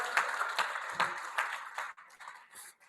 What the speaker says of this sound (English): can we give Bishop Malvin a round of applause?